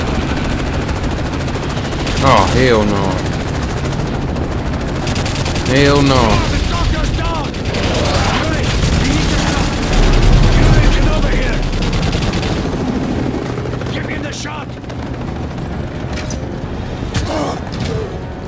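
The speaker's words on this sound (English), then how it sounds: "Helicopters coming out the woodwork." Helicopters and sustained gunfire in Call of Duty: Modern Warfare 3, loud continuous automatic bursts and booms over a rumbling rotor drone, with a man exclaiming in reaction.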